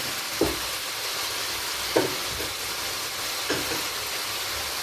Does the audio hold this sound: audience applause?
no